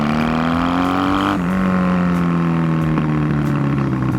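Motorcycle exhaust rumbling loud and close, a continuous throaty engine tone that climbs in pitch, drops with a gear change, then holds steady.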